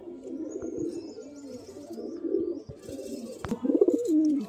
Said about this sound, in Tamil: காஷ்னி பூரி மேல் கேர்வா சீனி ஃபீமேல் ரொம்ப அருமையான புறா இது